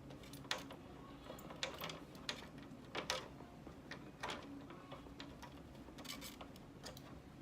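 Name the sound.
screwing nuts and bolts into acrylic gear cup turner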